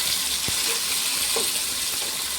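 Green chillies and tomatoes fry in a pan with a steady close sizzle, while a spoon stirs them and scrapes the pan in a few soft knocks.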